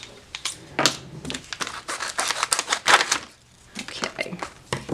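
Close, irregular crinkling and crackling of hard-to-open plastic packaging for blender brushes being handled, with a brief quiet gap midway.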